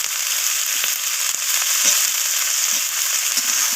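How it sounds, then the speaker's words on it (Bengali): Potatoes, stalks and vegetables frying in a pan for a Bengali greens dish, a steady close sizzle broken by the scrape and clatter of stirring. "তো সমস্ত কিছু এইভাবে নাড়াচাড়া করে নিচ্ছি, আমি নাড়াচাড়া করে ভেজে নিচ্ছি।"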